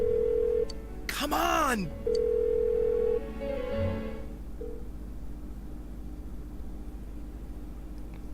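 A phone in Persona 4 Golden rings unanswered, giving repeated electronic ring tones with a whooshing sweep partway through, while a voice speaks briefly over the ringing.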